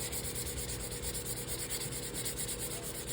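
Sandpaper rubs back and forth over an epoxy-coated tumbler cup between coats, making a soft, steady, rhythmic scratching close by with no talking.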